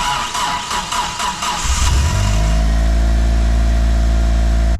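Mitsubishi Lancer Evo 6 with a sticking starter motor: a harsh grinding crank for about two seconds, then the engine catches and settles into a loud, close, steady idle with a strong low drone that cuts off abruptly.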